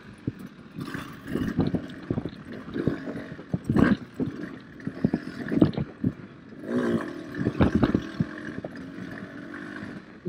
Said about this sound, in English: The engine's droning because it is at lower RPMs, but it's still putting out the speed.